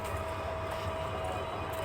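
A long oil tanker train stands at Natore railway station in Bangladesh, its engine giving off a steady, even mechanical drone with a faint tonal whine, with no voices.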